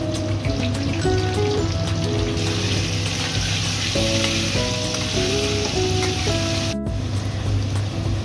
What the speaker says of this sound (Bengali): আমি কড়াইয়ের মধ্যে তেল দিয়ে দিয়েছি, আলুগুলো দিয়ে দিলাম।